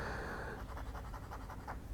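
Extra fine nib of a Pilot Vanishing Point fountain pen scratching across paper, a close, dry run of short rhythmic strokes with audible feedback and no talking.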